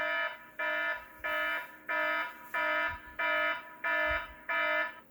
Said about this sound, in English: I didn't want to just loop the alarm while the video was playing.